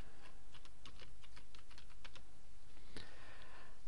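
Keys clatter on a computer keyboard as an organization name is entered, a quick run of soft close clicks followed by a single louder tap, no talking.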